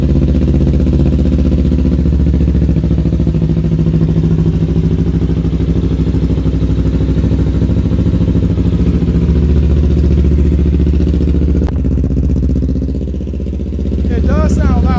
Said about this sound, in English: It does sound louder, a lot louder than the OEM.